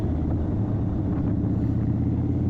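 A 2023 Indian Chief motorcycle engine running as the clutch is let out, heard as a steady, deep, close rumble with a low pulsing throb, unbroken and without speech.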